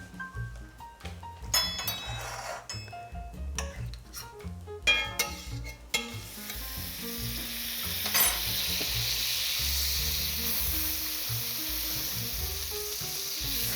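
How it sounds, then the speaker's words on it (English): Butter hits a warm pan and sizzles steadily, preceded by several sharp clinks and scrapes of utensils, then a continuous loud frying hiss for the last half; no talking. "I think the pan is warm enough, so I'm going to add the butter."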